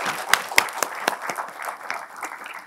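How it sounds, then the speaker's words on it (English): Light, scattered applause from a small audience after a talk on fighting cancer, a few sharp individual claps standing out at first before settling into softer, thinner clapping. "I think all the three of them deserve a round of applause."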